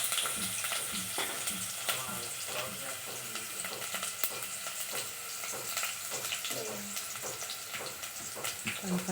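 Onions frying in a pan for rasam, a steady close sizzle broken by scraping stirring strokes and small wet crackles throughout.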